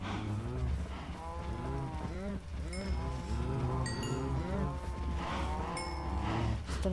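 Cattle mooing in the video game Minecraft, several drawn-out moos overlapping and repeating throughout over a steady low background hum, with a few short chime-like game tones mixed in; no one speaks.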